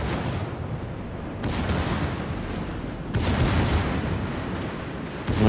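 Bismarck battleship secondary guns in World of Warships: Legends fire in a loud, rumbling barrage, with sharp booming salvos landing near 1.5, 3 and 5.3 seconds over a continuous roar of battle.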